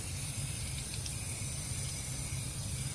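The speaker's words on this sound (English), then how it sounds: "let's go ahead and give it a rinse" A steady hiss of water spraying to rinse freshly cleaned teak wood from a 1977 Boston Whaler 21 Outrage boat, continuous and close with no pauses.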